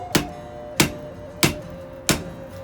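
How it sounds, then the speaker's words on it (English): A hammer strikes a hot chisel cutting through forged steel bar stock for a rolled rose: four sharp, ringing metallic blows at an even, unhurried pace, close and loud. "I'm going to use the hot chisel"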